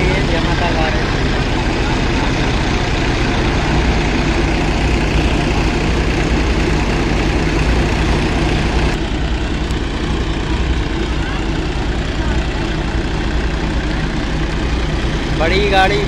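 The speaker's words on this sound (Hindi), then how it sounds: "अभी ये 1200 RPM पर चल रहा है ट्रैक्टर, कोई लोड नहीं" A Massey 7250 tractor idles at around 1200 RPM with no load while hooked to a peanut thresher during the harvest, making a loud, steady low rumble that runs throughout.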